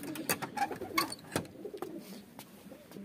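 Racing pigeons in a loft coo in soft, repeated bursts, with some wing flutters and shuffling nearby and no talking.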